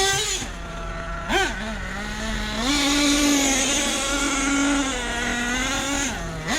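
A Losi 8T RC truck's small nitro engine buzzes and revs during break-in, its pitch rising and falling with short bursts of throttle as it runs nearby, loud and continuous.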